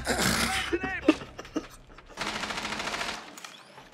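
Rapid bursts of automatic gunfire in the tactical shooter Rainbow Six Siege, a loud rattling volley early, scattered single shots, then a longer sustained stream of fire, close and sharp.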